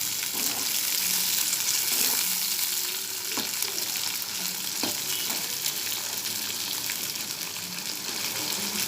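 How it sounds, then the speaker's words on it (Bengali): Pieces of pointed gourd (potol) fry in a pan with a steady, close hiss of oil, broken by a few sharp clicks and scrapes as they are stirred. "এবার পটলগুলো ভেজে নিচ্ছি একটু।"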